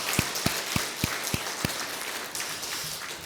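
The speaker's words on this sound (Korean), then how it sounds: "박수로 환영하겠습니다." A church congregation applauds to welcome a member during a Sunday morning worship service, with a steady wash of many hands clapping and a few sharper individual claps standing out early on.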